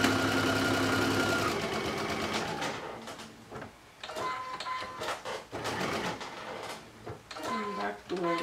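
Sewing machine basting fabric for a swim top, a close mechanical stitching rattle in short bursts and pauses, with a steadier hum at the start.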